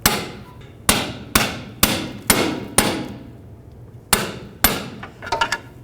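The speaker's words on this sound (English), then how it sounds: "take a hammer and just hammer it off" Sharp metallic hammer strikes ring out one after another, seven or eight blows at an uneven pace, each leaving a short clanging decay.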